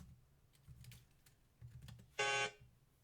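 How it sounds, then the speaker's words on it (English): A handheld barcode scanner reads an item during warehouse stock order picking, giving one loud, sharp electronic beep lasting about a quarter second, preceded by faint clicks and keyboard taps, with no talk. "So I will scan this item right now."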